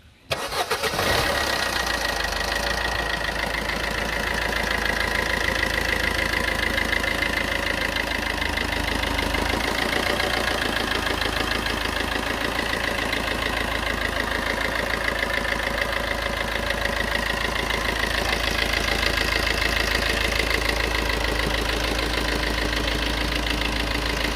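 A Maruti Suzuki Ertiga diesel engine starts with a brief crank, then settles into a steady, even idle with a close rattling rumble that continues unchanged.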